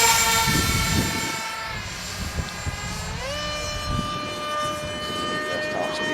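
An FF-117V2 radio-controlled model jet passes at top speed, a loud steady whine with strong harmonics that dips and bends in pitch mid-pass, over wind buffeting and outdoor rumble.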